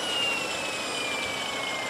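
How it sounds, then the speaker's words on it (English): RC jet turbine just after ignition off, a steady airy whoosh with a thin high whine slowly falling in pitch as it spools down, close and constant. "Jet turbine ignition off."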